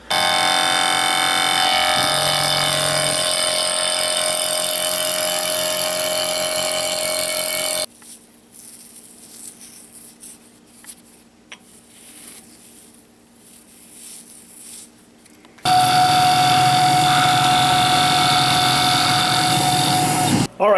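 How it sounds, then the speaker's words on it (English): Delrin plastic being cut on a machine tool, a loud continuous high whine with a steady tonal edge, running for several seconds, stopping for a quieter stretch of faint shop noise, then starting again. "so I machine a little bit of Delrin"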